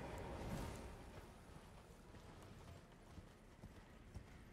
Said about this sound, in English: Horse, get out here.